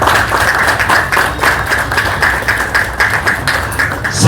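A Rotary Club installation audience breaks into loud, dense applause welcoming the new president, a continuous clapping roar lasting the whole stretch.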